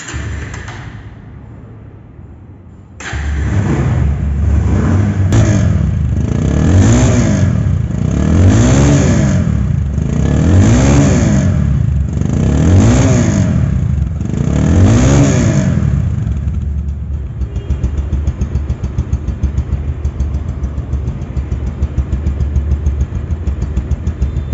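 A second-hand 2023 Bajaj Pulsar double disk ABS motorcycle, with only 366 km on it, runs its engine close by: a steady drone rises and falls through several rhythmic revs, then settles back to a lower idle.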